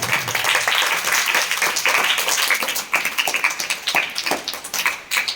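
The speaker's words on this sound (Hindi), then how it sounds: "जोरदार तालियों के साथ" Loud applause opening a mathematics class session on simple interest, dense at first, then thinning into separate claps toward the end, with no voices.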